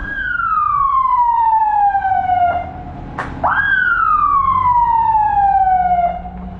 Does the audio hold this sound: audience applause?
no